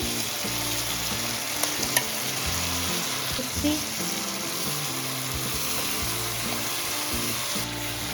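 Moong dal and ginger frying in a pan for dalia khichuri, a steady close sizzle with scraping stirring strokes throughout and no talk.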